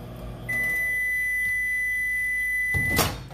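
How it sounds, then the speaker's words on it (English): A single long, steady electronic beep tone sounds for a couple of seconds, followed by a brief clunk or rustle nearby. "that microwave will beep like another minute"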